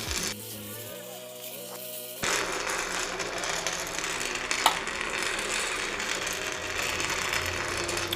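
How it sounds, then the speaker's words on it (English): A popcorn maker roasting coffee beans starts with mechanical clicking and whirring as its sensor kicks in, then a steady dense crackling rush continues, fairly loud and unbroken, with one brief sharp tick midway. "That's the sound of the sensor kicking in."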